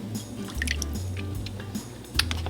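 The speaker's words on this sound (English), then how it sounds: "Okay, now we're going to add in the coconut jello that we made on top." Soft wet squishes and drips come from coconut jello being spooned on top of other jello in a container, close and intermittent over a low steady hum.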